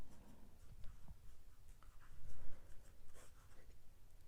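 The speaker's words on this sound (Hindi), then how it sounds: "इसको देखो मैं कैसा लिख रहा हूं" Writing on a board during a maths lesson, faint scratchy strokes and light taps in an uneven rhythm over about four seconds, soft and close.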